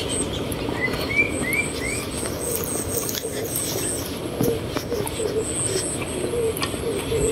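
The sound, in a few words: birds in a park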